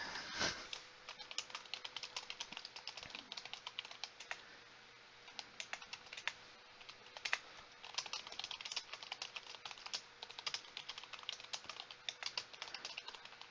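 Steady typing on a computer keyboard that may be faulty: dense bursts of small clicks and clacks run the whole way through. The keystrokes sound close but quiet, with short pauses between the runs of keys.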